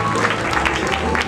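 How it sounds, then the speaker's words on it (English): An audience claps steadily at a Pro Rising Star Latin ballroom dance competition for the finalist couples. The applause is loud and dense for the whole short stretch. "Ladies and gentlemen, a great round of applause once again"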